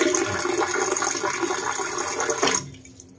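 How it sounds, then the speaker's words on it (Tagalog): A ship's toilet flushes with a loud, steady rush of water that runs for about two and a half seconds, then cuts off abruptly, leaving near silence. "mag-flush dyan yung tubig dyan sa loob"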